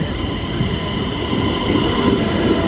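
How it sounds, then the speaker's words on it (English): Steady rumbling roar of a high-speed train running on rails to Fujian, China, a continuous dense hum with a faint high whine, heard from inside the carriage. "a crazy long 9-minute train on the high speed rail to Fujian"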